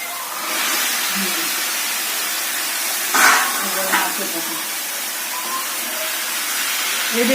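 Chicken pieces going into a pan of fried spice masala for an aloo chicken curry, a broad steady sizzle running throughout with a brief louder crackle partway, close, with a faint voice in the background.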